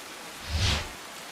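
Heavy rain in Surat: a steady, soft hiss of downpour with a slight swell in the middle, fairly faint and without voices.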